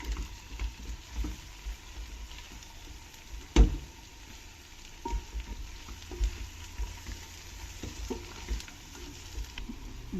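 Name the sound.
stirring frying ingredients for millet biryani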